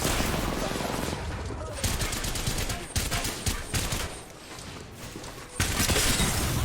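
Dense video game gunfire crackles in rapid, overlapping bursts with a constant roar of noise, loud and close. It pauses briefly before surging again.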